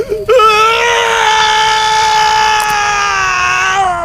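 A son's drawn-out, wailing cry over his father in a Jujutsu Kaisen anime scene, loud and sustained at a steady high pitch for about four seconds, heard alone.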